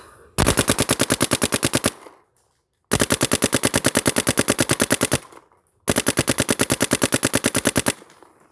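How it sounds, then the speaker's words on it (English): Dye DAM paintball marker firing on full auto, three long rapid bursts of evenly spaced loud shots separated by short pauses, close and with no talking. "All right, and then we will go to full auto fire."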